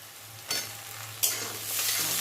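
Onions frying in a pan for a thin mutton curry give a soft constant sizzle broken by two sharp stirring swishes, close and steady with no voices.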